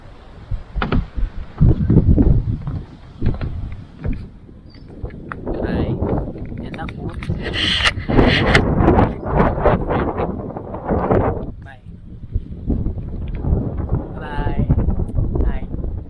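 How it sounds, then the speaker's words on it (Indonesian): Strong gusts of wind buffet the microphone in rumbling bursts at a lakeside coffee stall at Setu Rawagede, Puncak, with people talking intermittently underneath. "kondisinya berangin, mungkin kalian bisa lihat, bisa dengar di suara video yang berangin"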